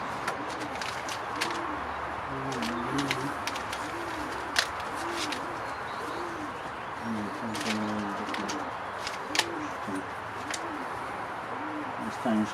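Racing pigeons coo in repeated soft rolling phrases at close range, with overlapping calls and scattered sharp clicks and taps throughout.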